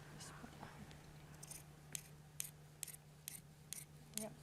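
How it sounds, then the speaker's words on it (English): Scissors cutting straight across fabric along a seam line, a series of crisp snips in a steady rhythm, close and fairly quiet, with a low hum underneath. "you can just use the scissors and cut straight across this line."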